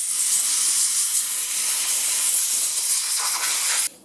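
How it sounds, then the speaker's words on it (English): Compressed air blows in a loud, steady hiss through a riding lawn mower's sponge-covered air filter for about four seconds, then cuts off abruptly. "And we'll blow our air filter out."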